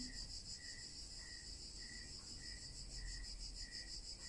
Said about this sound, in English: The cicadas are strumming and strumming away.